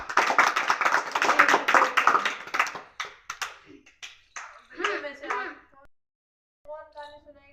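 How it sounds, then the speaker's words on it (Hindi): Children in a classroom setting clap their hands together in a burst of dense, brisk clapping, followed by scattered claps and talking voices. "तालियां बजाए एक बार।"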